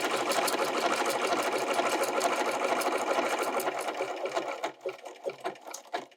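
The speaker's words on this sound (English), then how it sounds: "I'm going to lift my needle up and I'm going to scoot over and just continue to stitch." A sewing machine stitches a fabric gift tag with a fast, steady mechanical chatter, close and continuous for several seconds before stopping and restarting in short bursts.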